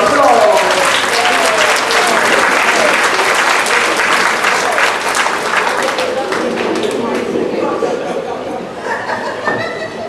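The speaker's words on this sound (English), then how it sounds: "So let's just give them a round of applause." An audience applauds a long-married couple at a celebration, a dense steady clapping with chuckles and scattered chatter mixed in, loud and sustained before thinning slightly toward the end.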